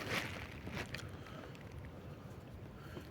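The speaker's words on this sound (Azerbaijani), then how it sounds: "Külək biraz arttı" Breezy, rising wind at a lake while fishing buffets the microphone in a low, continuous rumble, steady and fairly quiet throughout.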